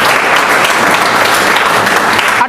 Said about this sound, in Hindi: एक बार जोरदार ताली बजा दीजिए रमेश पुहानी जी